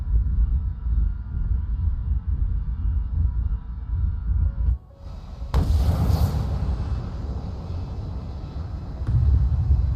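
Heavy booming gunfire in a video game, a dense sustained rumble of shots followed by a sharp loud blast midway and continued rolling reports, with no talking.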